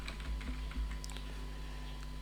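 Clicks of typing on a computer keyboard during an AutoCAD 2022 drafting session, a short irregular run of keystrokes close by over a steady low background hum, with no voices.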